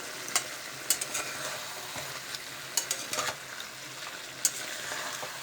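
Chicken curry with red chili powder being stirred and fried in a pan, a constant sizzle broken by repeated scraping and clacking of a spoon against the pan, close up with no voices.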